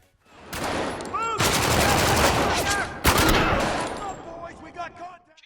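Gunfire from a headshot kill in the shooter video game Spec Ops: The Line: loud, dense bursts of shots with a sharp, crisp crack partway through, fading into a quieter tail at the end.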